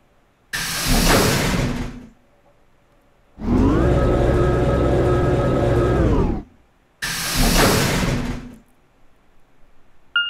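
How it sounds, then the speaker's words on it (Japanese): Heavy doors slide and slam shut in Zero Escape: Zero Time Dilemma, with three loud bursts: a short rushing clang, a longer droning mechanical closing, then a final rushing slam, close and with no talk. "カラードドア閉鎖。"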